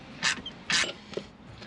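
Metal clicks and creaks from a wrench loosening brake caliper bolts on a caravan wheel, two sharp bursts of ratcheting followed by a fainter click, close and otherwise quiet.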